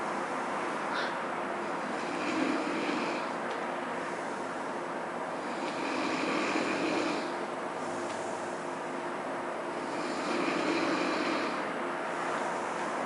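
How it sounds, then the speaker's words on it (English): A brother snoring loudly while asleep, three slow rasping swells spaced a few seconds apart over a steady background hiss, with no talking. "Do you hear the snoring?"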